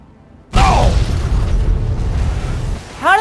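A booming gunshot from a sniper rifle in Fallout 3, one loud sudden crack that rings out and fades over a few seconds, followed by a short rising synthetic tone.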